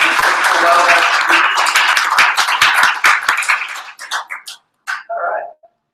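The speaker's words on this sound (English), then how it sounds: "we got to give a round of applause for those sponsors" A meetup audience gathered for a talk gives a round of applause, dense clapping at first that thins into scattered claps and fades out, with a little voice mixed in.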